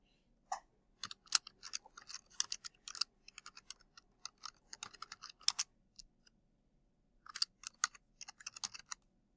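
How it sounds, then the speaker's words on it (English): Text being typed on a computer keyboard, with quick bursts of close, crisp key clicks separated by short pauses. "And I will type in here text."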